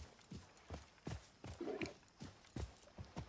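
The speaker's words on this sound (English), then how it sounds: "your horse would gallop along at speed" A horse galloping in the Assassin's Creed Mirage video game, with rhythmic hoof clip-clops in quick repeated beats and a brief whinny-like snort midway, fairly close and alone.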